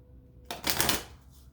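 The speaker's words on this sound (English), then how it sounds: "So let's just pull one more card here" A tarot card slides out of a deck in one quick, close papery swish lasting under a second, with near silence before and after.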